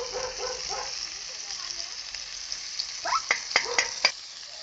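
Garlic frying in a pan over a wood fire, a soft continuous sizzle with a few sharper crackles and pops near the end.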